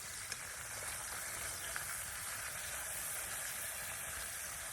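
Bacon frying in a warm pan while being moved about to crisp, a steady broadband sizzle and hiss with a few faint ticks, continuous and fairly quiet, no voices.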